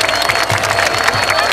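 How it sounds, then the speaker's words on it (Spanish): Loud audience applause at a Cuban music concert, with dense steady clapping mixed with crowd cheers and some background voices, continuous throughout. "vamos a hacer el aplauso fuerte"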